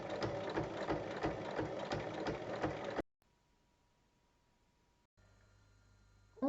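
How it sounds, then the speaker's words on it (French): Sewing machine topstitching fabric, a fast rhythmic mechanical chatter of the needle for about three seconds, then stopping abruptly, leaving a quiet room with faint hum. "On va maintenant faire une surpiqûre de chaque côté de la bande centrale."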